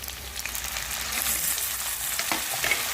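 Tomato dropped into a pan of frying potatoes for a banana flower curry, giving a dense, even close-up sizzle with faint stirring scrapes and no talk.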